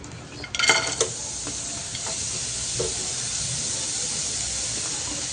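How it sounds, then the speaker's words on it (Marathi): Onion drops into hot oil in a kadhai with a burst of sizzling and a couple of clatters, then settles into a steady close hiss of frying that continues to the end. "आता आपण कढईमध्ये कांदा टाकूयात।"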